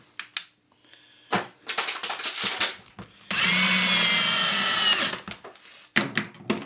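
Power drill driving into wood while building a step stool with paint-stick spacers: a loud, steady whine of about two seconds, with short bursts and handling clatter before and after it, no talk.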